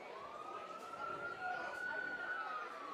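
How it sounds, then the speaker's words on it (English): A siren wails steadily as an ambulance drives past outside a baseball game, a single sustained tone rising slightly and then easing off, heard at moderate distance under crowd chatter. "Ambulance drives by"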